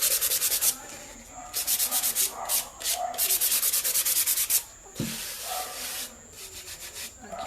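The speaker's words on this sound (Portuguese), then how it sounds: "Deixa eu lixar aqui agora. Pra tirar aquela aspereza da cola" Dried glue is sanded off a wooden drawer with 400-grit sandpaper in repeated bursts of close, brisk rubbing strokes, separated by short pauses.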